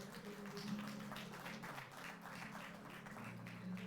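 Applause rises from the audience at a felicitation ceremony for Asian Games 2022 medal winners, a steady mass of clapping mixed with a low sustained tonal hum in the hall.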